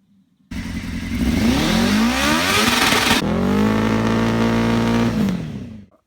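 A car engine in a video game revs hard for a minimum noise level test, rising in a long loud sweep, easing, then holding a steady high drone before cutting off.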